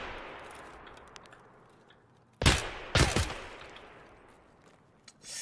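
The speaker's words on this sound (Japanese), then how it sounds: "うわ、銃声鳴らされたくなかった。" Gunfire in the video game Escape from Tarkov: two loud, sharp shots about half a second apart, each trailing off in an echoing tail against quiet ambience, with a fainter thump near the end.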